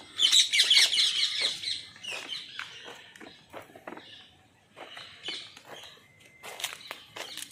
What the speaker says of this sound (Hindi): तोते यहाँ पे बहुत से तोते हैं।